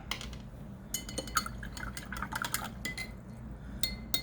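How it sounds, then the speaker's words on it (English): A paintbrush being rinsed in a water cup while painting evergreens, with clinking taps against the container and light sloshing and dripping water, close and fairly quiet. "Rinse that out."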